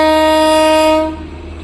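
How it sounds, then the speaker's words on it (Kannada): A train horn blows loud and steady near Darjeeling, sounding alone for about a second before cutting off, leaving the low rumble of the passing train underneath. "ಟ್ರೈನ್ ಬರೋದುಂಟು।"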